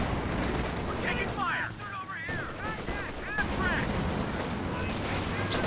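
Battle sounds from Company of Heroes 2, a real-time strategy game. Gunfire and heavy cannon-like blasts crackle throughout, with whistling shell sounds, while a commentator talks over the action.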